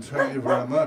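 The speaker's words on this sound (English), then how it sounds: "No, that's the dog next door." A neighbour's dog barks next door in a few quick, moderately close bursts, heard beneath a person talking.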